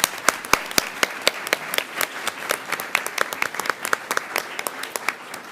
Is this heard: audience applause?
yes